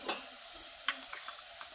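Masala spice hits hot oil with garlic for a quick fish curry, giving a soft, steady sizzle punctuated by a few sharp spoon clicks against the pan.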